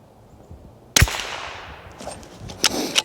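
A single sharp report from an Anschütz Fortner 1727F rifle fired with a cold bore outdoors, a loud crack with a lingering decaying tail, followed by faint metallic clicks of the action.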